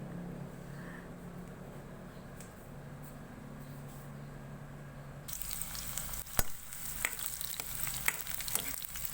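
Onion and garlic hitting a hot pan partway through: a quiet low hum gives way to a sudden bright sizzle that keeps frying steadily, with occasional clicks and scrapes of stirring, no talking.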